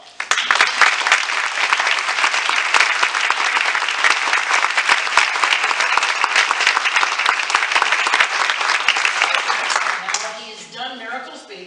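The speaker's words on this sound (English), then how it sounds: "City Manager Erik Tungate, please stand for a well-deserved round of applause." A large audience at a State of the City address gives a well-deserved round of applause for the city manager, loud, dense sustained clapping for about ten seconds before it fades and a voice begins speaking.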